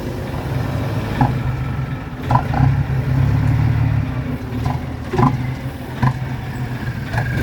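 A Sumitomo SH210 excavator digging a farm water-storage pond in Chanthaburi has its engine running steadily, a loud continuous low diesel drone with occasional revs and brief clanks from the working machine.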